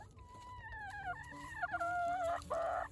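Rooster in a garden crowing nearby, one long, loud, wavering call that rises and breaks into a harsh, strained ending.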